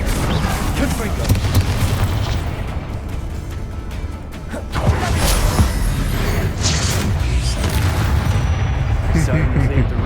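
Fire spell blasts from Confringo cast in Hogwarts Legacy, heavy booming impacts and crackling bursts filling the whole stretch amid a dense battle din, with a brief dip near the middle before the blasts resume.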